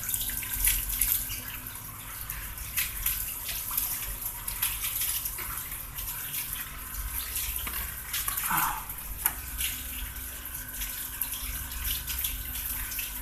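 Water drains from a koi pond filter chamber, a steady rushing, gurgling flow with splashy texture that runs continuously, close and moderately loud.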